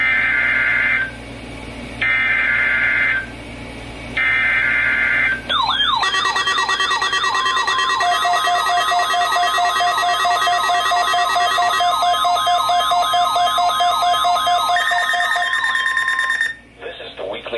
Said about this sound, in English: This is the weekly test of the NOAA Weather Radio warning device